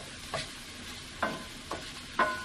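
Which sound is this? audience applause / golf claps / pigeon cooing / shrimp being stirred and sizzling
shrimp being stirred and sizzling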